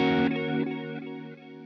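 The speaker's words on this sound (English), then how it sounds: "Okay, so move on to the modulated delay." Electric guitar through a modulated delay effect paired with chorus, a sustained strummed chord shimmering and wavering as its echoes trail off and fade over under two seconds, with no voices.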